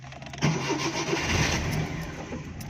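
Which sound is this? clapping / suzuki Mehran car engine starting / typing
suzuki Mehran car engine starting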